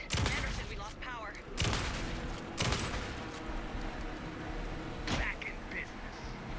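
Gunfire in the Alan Wake 2 video game on PS5, sharp loud bursts cracking out at irregular intervals over a rain-like noisy background.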